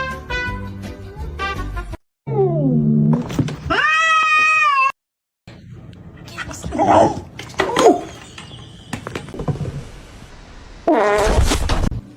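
A pet cat meows repeatedly in drawn-out, wavering cries, loud and close, with short silent gaps between calls and some rustling and faint voices in the middle stretch.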